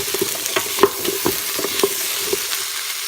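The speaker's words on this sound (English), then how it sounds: "Give it a good stir." Unpeeled, roughly chopped carrots are stirred in a pot on saute mode, with a spoon scraping and knocking the pot in a loose rhythm over a gentle sizzle, close and fairly loud, no voices.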